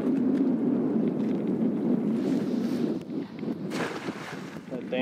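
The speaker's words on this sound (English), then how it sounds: "That damn wind." Wind gusts across a fishing pier, roaring steadily and buffeting the microphone, with a brief lull and renewed gusting near the end.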